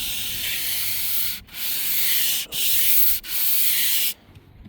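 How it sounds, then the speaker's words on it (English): Steady abrasive sanding strokes on the curved hood of a Hummer H1, long rubbing passes broken by three brief pauses before stopping near the end. "as I get closer to here and you start sanding like this"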